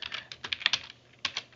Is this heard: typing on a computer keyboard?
yes